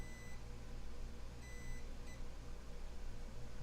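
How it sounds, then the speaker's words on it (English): A multimeter beeps during a continuity check on a PS5 board under repair: two or three short, faint electronic tones, each lasting under half a second, over a low steady room hum with no talking. "Can't show you the multimeter, but if you can hear that beep,"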